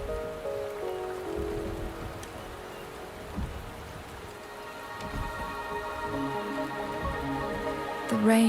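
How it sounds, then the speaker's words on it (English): Steady rain patters on surfaces in the video game Wuthering Waves, a dense soft hiss with scattered drops, beneath sustained tonal music notes and a faint rumble. "rain is subsiding, and the sky will soon clear"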